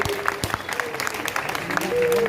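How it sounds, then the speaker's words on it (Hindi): Scattered clapping comes from a crowd at a Janmashtami fair poetry gathering in Maholi, a few sharp distinct claps rather than a full ovation, with some voices faintly in the background. "एक बार सारे लोग जोरदार तालियां बजाइए।"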